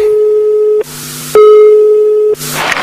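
Telephone busy signal: a loud, steady tone pulsing on and off in regular beeps, heard alone and up close.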